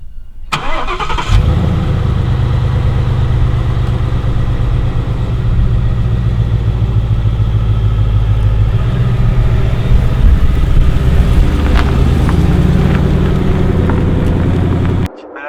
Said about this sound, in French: Le son du V8.